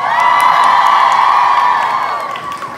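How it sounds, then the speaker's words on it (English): A concert crowd cheers, whoops and applauds for the band, loud and continuous, with high shouts over a broad wash of noise that fades slightly at the end. "Big round of applause."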